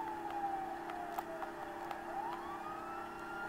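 A faint siren sweeps up and down at a distance, steady and thin, with small clicks and taps scattered over it.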